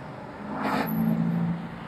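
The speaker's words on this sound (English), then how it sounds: "Hope you can hear that exhaust too." A 2007 Shelby Mustang GT engine drones low and steady with a brief whoosh of passing air, the exhaust note rising slightly midway before settling.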